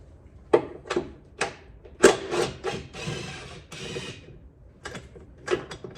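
Upper control arm bolt being removed on a 2008-2014 Cadillac CTS, heard as a close run of sharp metallic clicks and ratcheting bursts with a few scraping clanks, no talking.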